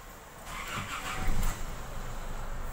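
Isuzu D-Max engine cranking on its starter, a short burst of mechanical whirring and rumble that swells briefly, then settles into a steady idle-like drone at moderate volume.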